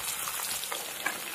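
Chopped onion fries in hot oil with cumin, bay leaf and dried chilli, giving a brief, faint, even sizzle with no voices.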